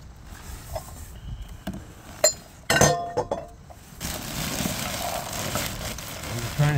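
Glass items clink and knock against one another while someone rummages through a box from an abandoned storage unit, irregular sharp clinks with a couple of louder bursts, close, over a rustling background.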